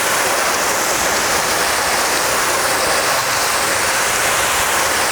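Steady, loud rush of water hosed over a car just treated with a strip wash meant to remove Turtle Wax seal and shine, a continuous broadband spray with no pauses and no talking.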